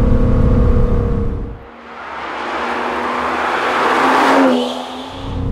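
An Aston Martin DBS Superleggera on an open road: loud engine drone and roar that drops off, then builds again in a rising run to a peak before easing near the end, with no talking.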